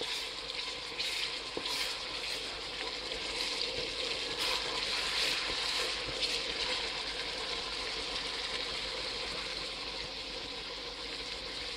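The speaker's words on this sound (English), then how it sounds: "Let's give it a stir." Ghanaian-style chicken stew fries in a pot with blended ginger and garlic, a steady loud sizzle and bubbling filling the whole stretch, broken by occasional soft stirring scrapes and clinks.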